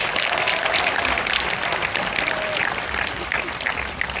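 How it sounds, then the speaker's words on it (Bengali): Audience applause for a violinist at a live concert: dense, steady clapping from a crowd that holds at a constant level for the whole stretch, with a few voices mixed in beneath it. "সৌপ্তিকের জন্য একটা জোরে হাততালি"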